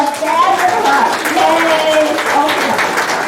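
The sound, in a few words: audience applause in a church service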